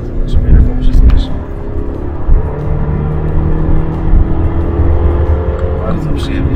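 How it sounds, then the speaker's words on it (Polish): A recorded Ferrari engine sound played through a car's speakers rises as it accelerates, a steady mid-level engine drone under talking voices inside the car. "To jest nagrane dźwięk Ferrari."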